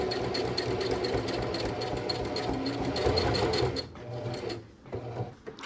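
Sewing machine stitching and backstitching along a kimono seam, a steady close whirring hum for almost four seconds, then stopping and starting in short bursts.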